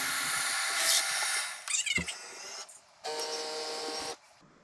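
A Roborock S7 MaxV Ultra robot vacuum washing its mop in the dock: whining mechanical runs that stop and start, with a sharp clunk partway, then a steady motor hum that cuts off, heard close with no talking.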